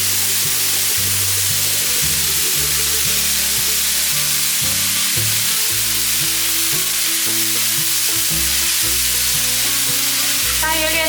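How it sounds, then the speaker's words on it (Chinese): Cabbage and glutinous rice peppers are stir-fried, a loud unbroken frying hiss running throughout while steady, tuneful background music plays underneath. "炒到高丽菜有点变软了，我们把糯米椒放进来"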